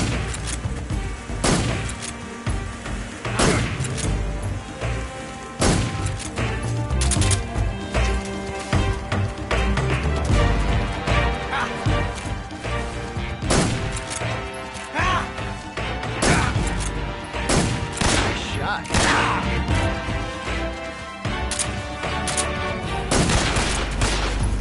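Gunfire in Metal Gear Solid 3 Snake Eater: repeated loud, sharp shots at irregular intervals throughout, over a busy bed of music and combat noise.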